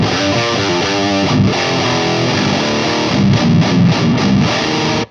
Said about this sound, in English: You will get a really thick, slightly loose distortion.